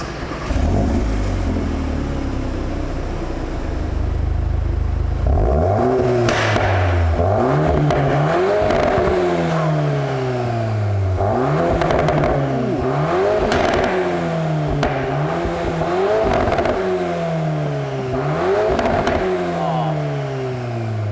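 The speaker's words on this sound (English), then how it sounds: "but that sport exhaust with the crackles and pops" A 2022 Volkswagen Golf R with a sport exhaust revving hard, loud and close, with repeated rising and falling engine sweeps, sharp crackles and pops between throttle blips, and a deep rumble underneath.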